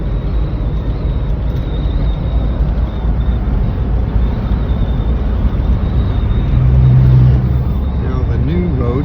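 Car driving along a road between Tehachapi and Bakersfield, shifted back into gear on a smooth stretch: a steady, loud broadband engine and road roar with no break throughout, plus a brief tonal hum rising near the end.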